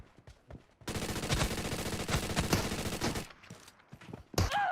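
Rapid automatic gunfire in PUBG Mobile, a sustained burst of about two and a half seconds with moderate loudness, framed by quieter footsteps and shuffling before and after.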